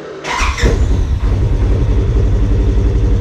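A Polaris RZR XP 1000 side-by-side cranks with a brief whine and squeal, catches, and settles into a loud, steady rumbling idle close by, with no talking.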